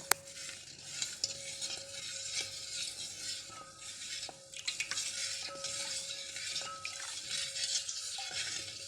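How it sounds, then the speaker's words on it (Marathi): A spoon stirs and mixes a summer sherbet juice, making a quiet, continuous swishing with faint clinks against the container and no voices. "गरमीच्या दिवसात प्यायला एक नंबर ज्यूस चांगलं मिक्स करून घेऊ"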